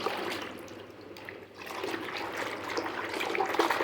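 Hand swishing and sloshing water to mix in a little shampoo for washing a shirt, a steady close liquid churning that swells and eases without pause.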